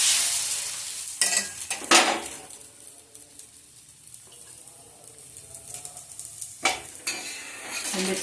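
Adai dosa cooks on a hot pan with a soft continuous sizzle, broken by a few louder scraping bursts of a spatula near the start and again later, close and without talk.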